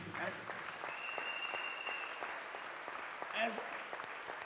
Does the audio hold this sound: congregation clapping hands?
yes